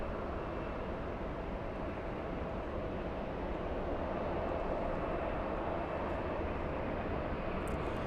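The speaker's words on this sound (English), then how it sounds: "Big one, China Eastern 583, flying in from Shanghai, China, 777-300." A China Eastern Boeing 777-300 arriving from Shanghai at LAX airport gives off a steady, broad jet roar heard from a distance, constant and unbroken throughout.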